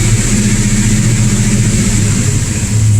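A vehicle engine with a 4L80E automatic transmission, humming steadily at a constant speed after shifting into overdrive, a close, loud, even drone with no audible gear change.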